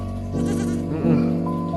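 A sheep bleats at a zoo, two loud, close, wavering calls in quick succession.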